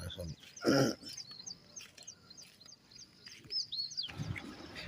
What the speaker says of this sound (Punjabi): ਪਹਾੜੀ ਏਰੀਆ ਦੇ ਵਿੱਚ ਚਿੜੀਆਂ ਦੀ ਚੀਂ ਚੀਂ ਕਿੰਨੀ ਸੋਹਣੀ ਲੱਗਦੀ